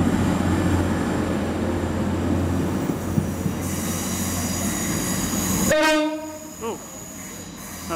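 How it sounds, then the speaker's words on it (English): A TransPennine Express Class 185 diesel unit departs York station with a loud, steady rumble of engine and wheels. Its horn sounds near the end as the noise drops away, followed by a faint wheel squeal. "185 departs York for Middlesbrough."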